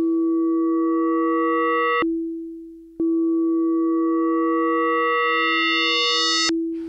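A Dexed DX-7 emulation synthesizer plays sustained bright FM notes rich in overtones. Each one cuts off abruptly with no release, leaving a single pure low sine tone. The pattern repeats twice with a short gap.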